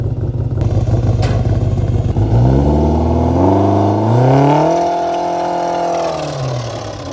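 A car sits stuck on an icy downhill slope as its engine revs up in rising, whining sweeps while the tires spin on the ice, loud and close, then the revs ease back down.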